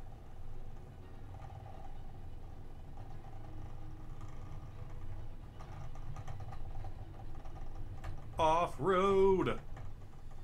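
A truck engine idles in American Truck Simulator as the rig pulls over onto grass. It makes a steady low rumble throughout, and a voice shouts briefly near the end.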